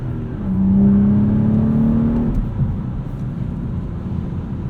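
A modified 2016 BMW 435i with a 6-speed manual gearbox accelerates on the road, its engine drone climbing steadily in pitch before settling into a continuous road and engine roar, with no talking.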